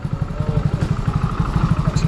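A motorcycle is ridden into a bike wash, its engine thumping in a fast, even rhythmic putter, loud and close, with faint background clatter.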